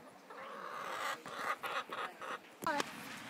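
A chicken near a farmyard with goats gives a few short clucks and a brief squawk, heard against soft outdoor background noise and faint voices.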